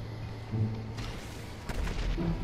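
Gunfire in the video game GTA 5: a muffled boom near the start, then a second sharper blast with a rumbling tail, both fairly distant and not loud.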